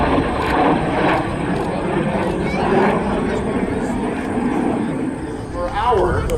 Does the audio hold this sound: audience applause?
no